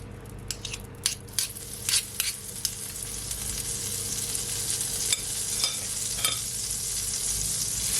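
Butter melts and sizzles in a pot, opening with a few clinks and scrapes before settling into a continuous, close frying hiss that stays steady to the end, with no voices.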